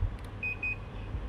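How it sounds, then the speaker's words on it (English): Two short, high-pitched electronic beeps in quick succession from a Daikin air conditioner's remote, signalling no fault, clean and fairly quiet over a low background hum. "So now it will be a double beep."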